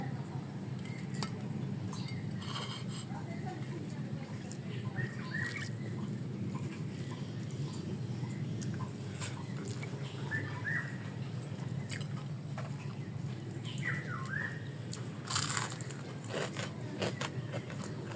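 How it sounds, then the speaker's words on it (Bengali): Crisp bites and chewing of crunchy fried jute leaf fritters, quiet and close with small intermittent crackles over a low steady background hum. "আওয়াজ শুনে বোঝা যাচ্ছে কতটা মুচমুচে বড়া হয়েছে শাকের"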